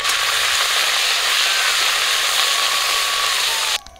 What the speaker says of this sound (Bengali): তেল গরম হয়ে গেছে, এখন কারি পাতাগুলো দিয়ে দিচ্ছি।